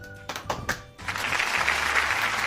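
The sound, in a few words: clapping applause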